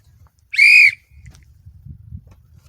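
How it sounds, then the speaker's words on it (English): A single loud, steady whistle blast rings out for about half a second, blown to call a trained dog back, followed by quiet low rustling. "if I blow my whistle"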